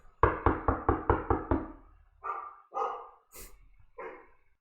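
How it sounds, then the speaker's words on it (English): A dog barks in a rapid burst of six sharp, loud barks close by, followed after a pause by several slower, softer woofs and a brief knock-like sound indoors. "started barking"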